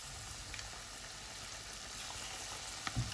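Chicken 65 pieces deep-frying in oil, a soft, steady crackling sizzle with scattered pops and a brief clink near the end, close but quiet, with no talking.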